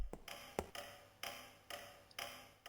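A grandfather clock ticks in the mansion of the game Mansion of Hidden Souls, a steady, faint, slightly distant tick-tock with crisp, evenly spaced clicks sounding alone.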